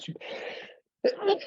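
One person sneezes twice, two short breathy bursts split by a brief silence, close and fairly soft indoors during a conversation.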